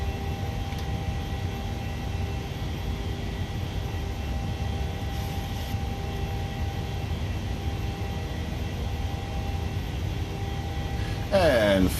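Boeing 737-700 climbing after takeoff in Microsoft Flight Simulator, a steady, broad engine roar and airflow hiss with faint tonal hums, constant throughout, a brief cockpit chime near the end, with a voice speaking over it.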